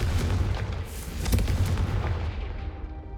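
Confringo fire spell blast in a Hogwarts wizarding video game, a loud rumbling explosion with crackling bursts that fade out over about three seconds.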